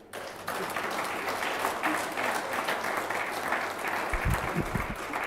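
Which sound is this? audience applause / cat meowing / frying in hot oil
audience applause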